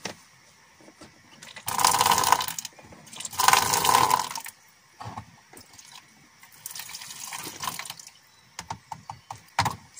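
Hot water poured from a flask in a camper van, coming in several splashing, gurgling bursts of varying length separated by short pauses, close and fairly loud.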